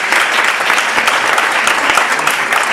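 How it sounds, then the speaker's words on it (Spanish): Steady applause from an audience at a photography, design and editing conference, dense and continuous clapping throughout with no gaps. "aparte del aplauso que se debe"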